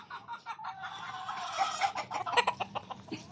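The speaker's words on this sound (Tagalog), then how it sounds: "Pasyal-pasyal tayo sa ating munting manukan." Chickens on a small poultry farm cluck repeatedly in a busy, overlapping chorus at close range, with several sharper calls standing out near the end.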